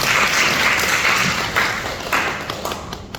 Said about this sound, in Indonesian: Beri tepuk tangan buat Kecamatan Pademangan